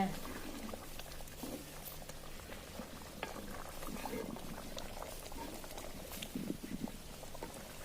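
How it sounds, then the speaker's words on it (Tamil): Soft, steady bubbling of a dried fish and eggplant curry simmering in a clay pot, with small pops and gurgles throughout, quiet and close. "இப்போ பாருங்கள் நல்லா குழம்பு வந்து நல்லா கொதிச்சு வந்துச்சுங்க"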